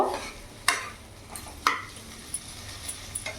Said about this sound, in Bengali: এবার ভালো করে আমি মশলার সাথে সব কিছুর সাথে ভালো করে মিশিয়ে নেব